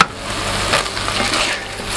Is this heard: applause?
no